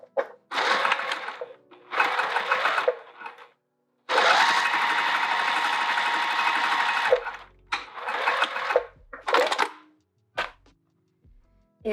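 A sewing machine runs along the edge of a bucket tote in close, steady whirring bursts, one long run in the middle and shorter stitches before and after, with brief quiet gaps.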